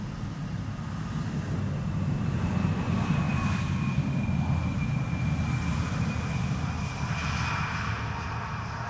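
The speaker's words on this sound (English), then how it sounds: "BizJet going to the Schiphol Oostbaan," Business jet on approach to Amsterdam Schiphol airport, with a steady engine roar and a faint whining tone sustained over several seconds at moderate distance, with no talk.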